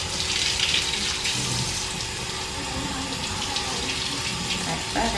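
Tap water running into a sink while grapes are washed, a continuous close splashing stream with a brief clatter near the end, no talking.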